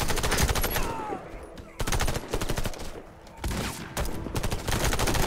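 Heavy shotgun blasts and rapid automatic gunfire from Warface co-op combat, loud dense bursts in three clusters separated by short lulls, no voices over them.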